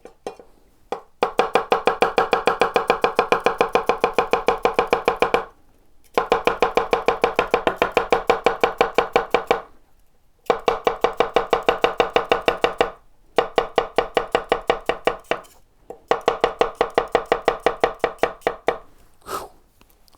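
A Chinese cleaver chops vegetables on a cutting board in fast, even, loud rapid-fire runs of sharp knocks, broken by brief pauses between bursts, with no talking.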